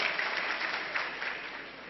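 Audience applause at a multi-level marketing seminar: dense, steady clapping from a crowd filling the whole clip at an even level, with no pause.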